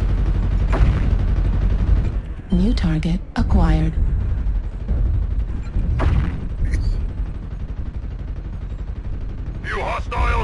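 Mech machine gun fire in MechWarrior Online, a steady loud rattling stream of rapid shots running through the whole stretch under engine rumble, with a synthetic cockpit voice speaking over it at times.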